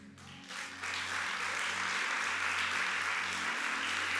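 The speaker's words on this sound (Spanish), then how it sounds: "Quiero que le demos un aplauso a todos los servidores" A church congregation applauds its volunteers at a Sunday service, the clapping rising after half a second into a loud, steady, dense wash of many hands that holds to the end.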